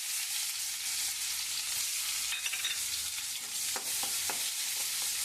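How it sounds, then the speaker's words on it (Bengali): Chopped onion frying in oil with nigella seeds, bay leaves and dried chillies in a pan gives a steady, close hiss, with a few sharp stirring clicks near the end. "পেঁয়াজটাকে ভাজবো"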